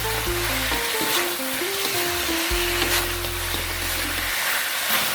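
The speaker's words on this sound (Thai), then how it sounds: "ตอนนี้อาผัดให้เข้ากันอีกสักเล็กน้อยครับ" Braised pork ribs with garlic and black pepper are stir-fried in a pan, giving a steady close sizzle with scraping stir strokes throughout and no talking.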